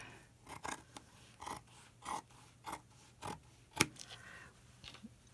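Scissors trim fabric scraps for a crazy quilt, producing about ten crisp, close snips at an uneven pace, each a short rasping cut with quiet pauses between, one cut sharper and louder than the rest.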